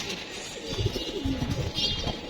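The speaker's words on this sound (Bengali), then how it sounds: "এই একসাথে দুই চার ছয় সাত আটটা কবুতর নামতেছে" Racing pigeons coo in low, throaty bursts as they land at the loft, fairly close, with wingbeats and a faint background hiss and no talking.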